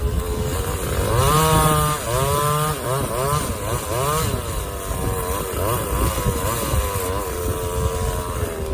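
A chainsaw cutting windstorm-downed wood runs loud and close, its engine rising and dipping as the throttle is worked. The pitch bends up and down repeatedly over a steady rough roar, with no talking.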